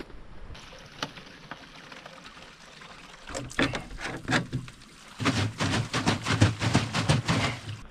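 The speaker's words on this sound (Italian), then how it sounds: "Vado a prendere una bottiglia in camper e la riempio immediatamente." Water runs into a bottle from a free drinking-water tap during a camper-van trip in Sardinia, a steady splashing flow that starts halfway through and grows louder and fuller, with faint background noise before it.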